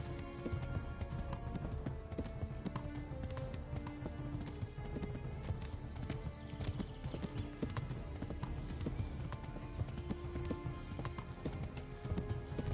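Horse hooves pound in a fast, steady galloping rhythm in the video game Kingdom Come: Deliverance, loud and close, with occasional whinnies over a dense layer of game sound.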